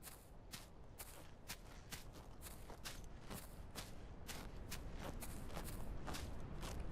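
A steady series of crunchy, rhythmic chomping sounds repeats about twice per second, close and fairly loud, as a horse munches grass in the video game The Legend of Khiimori, with no talking.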